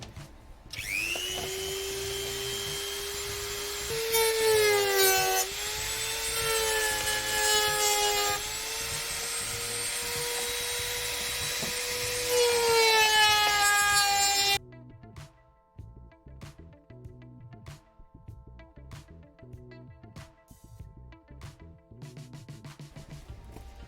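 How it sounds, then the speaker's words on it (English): Plastic universal side skirt for a 2013 Mazda 2 DE five-door being cut along a straight edge: a loud, steady whining buzz of the cutting tool for about fourteen seconds, then quieter irregular ticks and scraping. "when you're cutting, where you've marked your tape, you want to be cutting on the straight edge"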